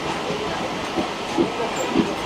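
A Digha–Mecheda local train pulls into Deshapran station, giving a steady rumble with soft rhythmic wheel thumps at about half-second intervals and a faint hiss. No one speaks.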